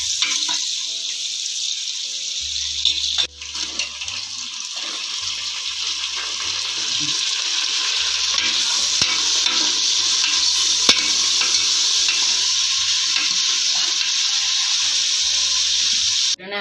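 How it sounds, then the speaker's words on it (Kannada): Onions with curry leaves fry and crackle in hot oil while being stirred, a loud steady sizzle with intermittent low rumbling knocks of the spoon against the pan, no voices. "ಟೊಮೊಟೊ ಕೆಂಪಗಾಗಂಗೆ ಈರುಳ್ಳಿ ಫ್ರೈ ಮಾಡ್ಕೊಳ್ಳಿ."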